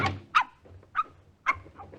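A dog gives three quick, sharp barks near a car, spaced about half a second apart, close and fairly loud against a quiet background.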